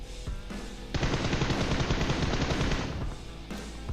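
Automatic gunfire in the PUBG Mobile video game: a loud, dense rapid burst lasting about two seconds, with quieter shots around it and no talk.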